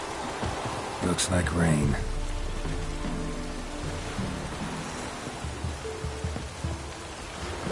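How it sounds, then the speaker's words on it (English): Steady rain pattering on surfaces in The Witcher 3 on PS4, a dense hiss with a brief louder burst early on, continuing evenly at moderate level throughout. "Looks like rain."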